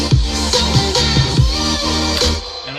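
Playback of an electronic remix, loud and dense, with punchy kick drums and bright synths, a few seconds long and fading slightly at the end.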